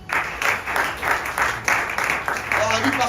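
A church congregation claps in a steady rhythmic beat, loud and close, with voices cheering and calling out over the applause throughout.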